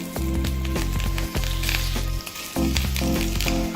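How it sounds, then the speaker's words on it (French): Olive oil sizzles loudly in a pan as stuffed cabbage fries, a steady crackling hiss broken by brief pauses and shifts as the pieces are moved. "Il faut que ça grésille."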